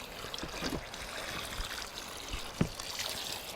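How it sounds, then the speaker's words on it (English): Water washing down through a worm farm, a broad watery trickle and splashing that stays fairly quiet and steady, with one sharper splash partway through. "we just take one bucket and we wash the worm farm"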